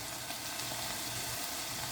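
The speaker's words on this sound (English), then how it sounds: "They're starting to sizzle now" Green beans sizzling in oil and sugar in a pan, a steady, dense, close hiss that holds evenly without pauses and with no talking.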